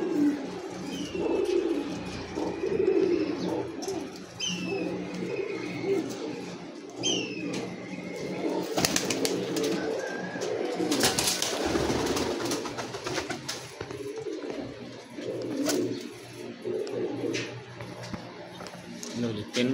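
Teddy breed pigeon chicks coo softly and intermittently close by, with someone speaking over them and rustling handling noises through much of the stretch.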